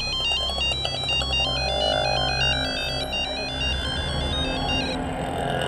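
A phone ringtone plays a bright repeating electronic melody, loud and steady for several seconds before cutting off near the end.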